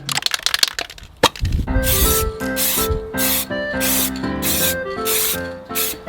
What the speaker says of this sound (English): Obviously, I'm going to be spraying this, so I'm not doing that in this room.